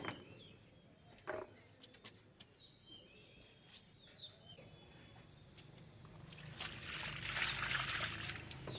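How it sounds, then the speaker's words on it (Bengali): Water is poured into tubs of old potting soil being prepared for lotus, a soft trickle that swells into a steady, louder pour near the end, with faint bird chirps in the background. "এই গামলাগুলোতে জল দেব কত পরিমাণ দেখুন দেখিয়ে দিচ্ছি কতটা জল দেব"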